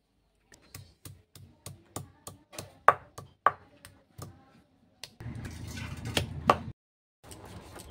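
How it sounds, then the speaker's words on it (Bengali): Leaves being ground by hand on a shil-nora grinding stone for a marigold-leaf fritter recipe, a regular series of close knocking strokes followed by bursts of harsher rubbing and scraping. "আমার কাছে নেই বলে আমি শিলনোড়াটাই বেটে নিচ্ছি"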